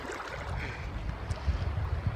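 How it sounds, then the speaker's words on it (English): Wind gusting beside a mountain creek in the Eastern Sierra, a rumbling, buffeting roar against the microphone with low thumps growing stronger toward the end. "So the wind is starting to pick up and I'm getting cold."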